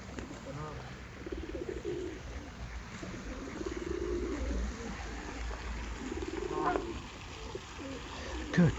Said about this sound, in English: I can't walk for pigeons.